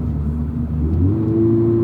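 A Toyota GR86 engine blips upward as the automatic gearbox downshifts, its steady mid-pitched hum rising smoothly in pitch and holding there, loud and close with no talk.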